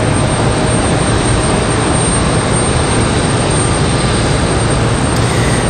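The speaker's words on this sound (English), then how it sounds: "This is JetBlue 2783 coming in from Boston, Massachusetts." A JetBlue Airbus A220-300 jet arriving from Boston gives a steady, loud broadband roar that holds without a break, with no voices over it.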